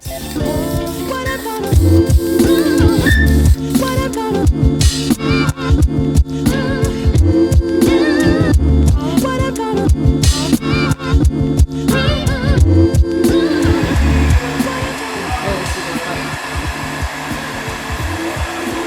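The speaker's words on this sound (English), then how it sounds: "This is a unique paint in which it needs a heat gun to dry correctly." Heat gun blowing hot air onto freshly painted engine parts of a 2JZ in an IS300 build, a loud steady whirring roar that stays close and continuous before easing slightly near the end.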